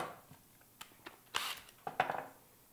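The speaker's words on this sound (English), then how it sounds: "So I'm going to cut the head off of a nail," A few sharp metallic snips and clicks as the head is cut off a nail with a cutting tool in a woodworking shop, faint and close, spaced irregularly with two louder crunching cuts near the end.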